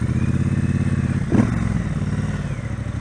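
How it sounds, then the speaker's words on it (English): A Triumph Bobber motorcycle engine rumbles steadily while being ridden, a loud low throbbing pulse with wind noise and a brief thump partway through. "we are on a Triumph Bobber"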